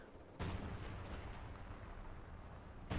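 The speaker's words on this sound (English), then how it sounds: "We do see a barrage going down on something." Artillery barrage in Company of Heroes 2: a sudden heavy blast opens into a sustained low rumbling roar, with another sharp impact striking at the end, moderately faint and without talk.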